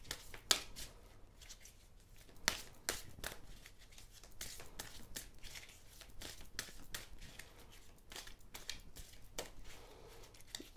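Soft, close riffling and slapping of large tarot cards being shuffled repeatedly, with irregular crisp flicks over a quiet background.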